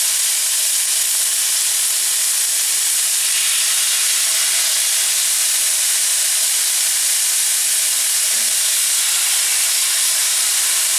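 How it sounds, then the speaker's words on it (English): Chicken pieces lifted from a yogurt marinade sizzle in a hot skillet for chicken tikka masala, giving a steady, even hiss that holds loud and unbroken throughout. "And then we need to add the chicken to the skillet."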